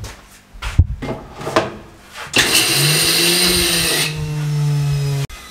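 A few knocks and rattles, then a mixer grinder coarsely crushing peanuts whirs loudly for about three seconds, its motor pitch shifting as it grinds, before cutting off abruptly.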